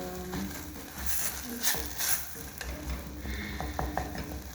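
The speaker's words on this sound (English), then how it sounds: "Okay, so you can see the onions are cooking well." Chopped onions, tomato and capsicum fry gently in a pan, a soft, steady sizzle broken by a few scraping stirs and light clinks of a spoon, with a low hum underneath.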